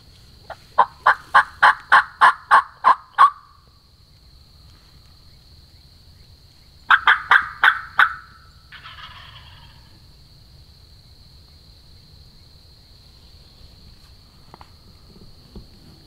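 Wild turkey gobblers in Oklahoma gobble loudly in two bursts of rapid rattling calls, with a steady insect drone and quiet outdoor ambience in between.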